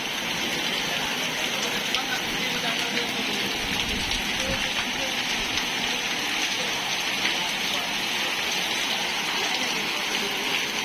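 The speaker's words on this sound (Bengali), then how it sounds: "অনেক বৃষ্টি হচ্ছে" Heavy rain with gusty, stormy wind pours down steadily in Daulatpur, the first rain after winter, a dense constant hiss that stays loud and unbroken throughout.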